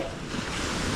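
Calm sea at 5 AM, with a soft, continuous wash of gentle waves and light wind close to the microphone, with no talking.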